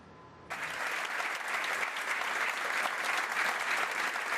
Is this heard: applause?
yes